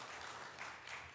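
A church congregation applauds, a faint, steady patter of many hands clapping together throughout, with no speech over it.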